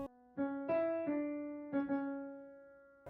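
Piano notes from The Cat Concerto cartoon, played on an actual piano in a slow sequence, a few chords and single notes ringing out and decaying, clear and solo with no voices.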